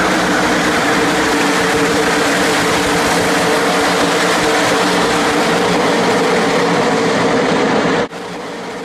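Stock cars roaring off the green flag at the Bristol short track, a dense sustained engine drone filling the air at high volume until it drops off abruptly near the end.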